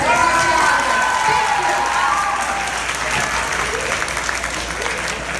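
Loud, sustained applause and cheering from a large audience at a school sports banquet, a steady wash of clapping with voices mixed in throughout.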